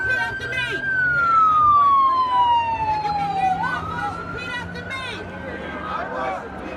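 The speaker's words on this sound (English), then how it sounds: "Is it ambulance?" An ambulance siren wails along a street, a clear descending tone sweeping loudly past before shifting pitch, heard over the murmur of an outdoor protest crowd with people talking.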